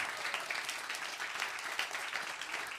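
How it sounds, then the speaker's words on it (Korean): A church congregation claps together in a short, faint burst of applause heard from a distance, with a dense, even patter of many hands. "박수 한번 하세요."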